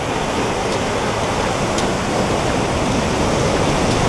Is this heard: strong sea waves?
yes